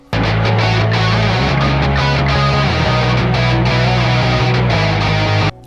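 Loud distorted rock guitars with a bass guitar underneath following steady root notes, playing continuously without vocals.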